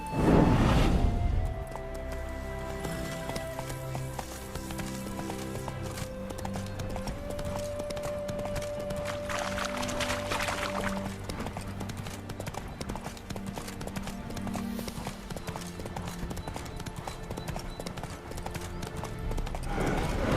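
Hooves of Roach, Geralt's horse in The Witcher 3, clip-clop steadily with an occasional whinny, set against a continuous game music score and ambient background.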